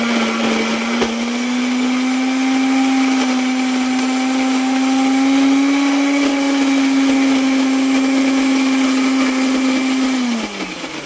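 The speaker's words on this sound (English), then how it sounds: "make sure you place the lid on your blender and then plug it in" A blender purees seed paper pulp, whirring continuously at high speed, a loud steady motor drone that holds for several seconds before winding down at the end.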